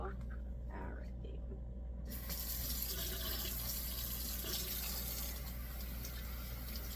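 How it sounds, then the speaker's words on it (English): Dyed clothes are rinsed under a running tap after soaking in dye, a steady broadband wash of flowing water that starts abruptly about two seconds in and continues close and loud to the end, with faint whispery voices beneath. "rinse it until the water comes out clear"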